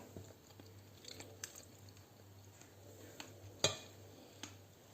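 Quiet clinks and light scrapes of utensils against dishes while plating honey-garlic glazed drumsticks, with one sharper clatter near the middle, over a low steady hum.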